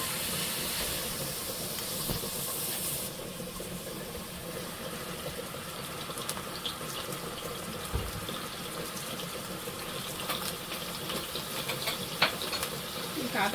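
Chicken pieces frying in a hot pan at the start of a cabbage stir-fry, a steady, loud hiss and sizzle that runs unbroken throughout, with occasional small pops and clatters.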